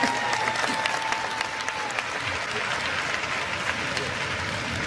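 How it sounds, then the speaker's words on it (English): A congregation claps at a church sermon, steady dense applause filling the whole stretch at even loudness, with a faint tone early on and no talk over it. "Give him a hand clap."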